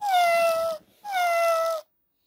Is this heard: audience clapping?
no